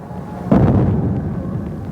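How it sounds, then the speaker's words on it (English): A sonic boom from a jet aircraft hits as one loud, deep thunder-like clap, then a rumbling tail that fades slowly. "disputes over the noise left in the wake of these aircraft. Sonic booms."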